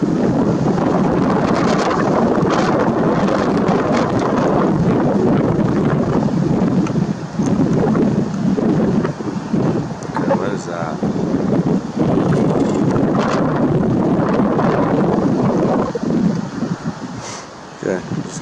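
Strong wind near 100 mph buffets the microphone in a loud, continuous roar with gusty surges and a brief lull near the end, with no talk over it.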